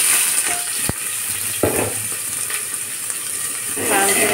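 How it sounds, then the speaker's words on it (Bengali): Dried red chili, panch phoron spices, chopped onion, green chili and garlic fry in hot oil for a red spinach lentil dish, giving a loud continuous sizzle with a few sharp utensil clinks and stirring scrapes. "লাল করে একটু ভেজে নেব।"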